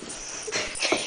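A dog scared of a starfish lets out short, breathy whimpers and wheezy whines that build over about a second, close to the microphone with no talk.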